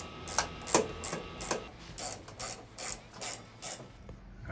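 Ratchet wrench tightening bolts on the push-pull rods and gearbox of an abandoned airplane's landing gear, a steady series of about ten sharp clicking bursts, close and fairly quiet.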